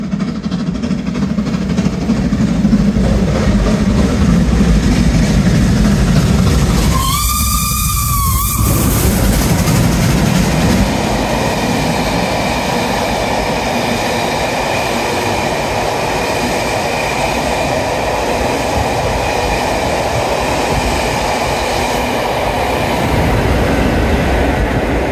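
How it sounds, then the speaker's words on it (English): Steam train passing through a station at Teignmouth, with a steady loud rumble of wheels and carriages throughout and a brief piercing whistle blast partway through. "next one through should be our steam train"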